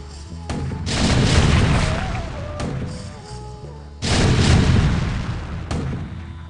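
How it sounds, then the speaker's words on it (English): Siege tank artillery booms out in the StarCraft video game, two heavy, loud blasts a few seconds apart, each followed by a rumbling tail amid other battle noise. "Siege tank sieging this the hatchery here. It's getting taken out."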